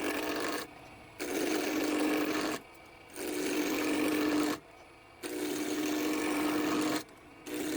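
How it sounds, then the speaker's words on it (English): A rough wooden blank spins on a wood lathe as a tool cuts it toward a cylinder sized for a shotgun shell keychain, giving a steady scraping whir broken into four long cutting passes by short quiet pauses. "I start by turning the rough piece of wood into a cylinder that's slightly larger than the diameter of the shotgun"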